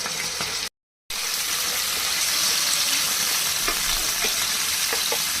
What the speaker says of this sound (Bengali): তেল গরম হয়ে গেছে এখন দিয়ে দিব ধুয়ে রাখা চিকেনগুলো